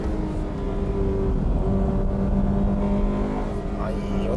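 A Honda Integra / Civic Type R with a VTEC engine runs on a track, its engine droning steadily and loudly from inside the car, with a voice speaking over it.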